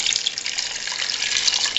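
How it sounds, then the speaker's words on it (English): Water pours steadily into a pan of cooking fat in a kitchen, a close, continuous bright splashing stream lasting a couple of seconds with no talk. "I'm gonna add some water to this"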